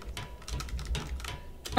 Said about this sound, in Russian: Чё, слышно, как Клаву я бью?